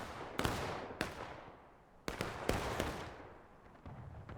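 Scattered musket shots from a Civil War battle video game, fired by file, crack out one after another at irregular intervals over a low rumbling background, some sharp and close, others softer and more distant.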